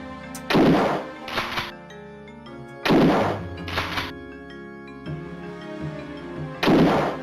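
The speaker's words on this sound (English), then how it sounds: "let's try blowing his ass away with the rifle" Rifle fire in the 1992 PC game Alone in the Dark: several heavy, booming shots at irregular intervals, each with a short ringing tail, loud over a steady droning background tone.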